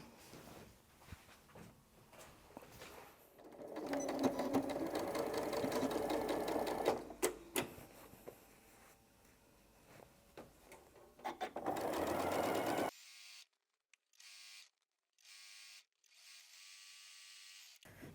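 A home sewing machine stitching quilt binding runs in a steady, close whirring burst, pauses, then resumes, ending in short stop-start runs separated by silence.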